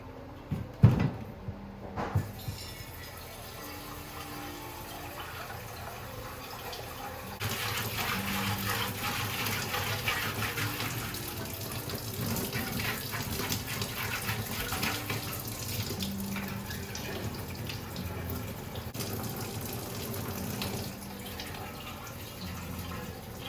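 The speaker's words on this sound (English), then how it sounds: "we can continue to just let the water run through it and flush it out" Water runs steadily through a rusted gas tank off a Can-Am DS90X being flushed clean of baking soda, grit and rust, a continuous close faucet-like rush that swells louder midway with a knock or two near the start.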